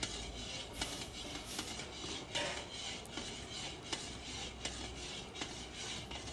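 Gram flour and maida being stirred into sugar syrup in a pan for Mysore pak: steady scraping and rubbing of a spoon against the pan, with faint repeated clinks, continuous and close, with no talk.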